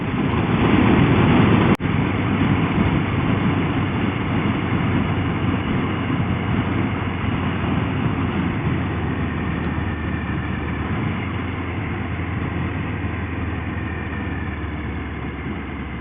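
A motorbike engine runs steadily at idle, a loud, close and even rumble that holds for the full length, with a brief click near the start and no speech.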